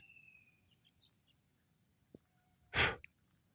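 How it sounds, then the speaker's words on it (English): A few faint, scattered bird chirps sound from a distance in the Australian bush, followed by a brief loud burst of noise close by. "Oh, listen to that. I wonder if we can get that bird."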